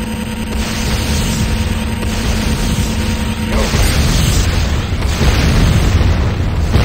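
Explosions and mechanical rumbling during an attack on a GDI Tiberium refinery in Renegade, a loud continuous barrage of booms and low roar with a heavier burst partway through.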